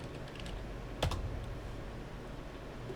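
Computer keyboard typing during network switch configuration, a short burst of quick key clicks around the middle over a steady low room hum, with no voices.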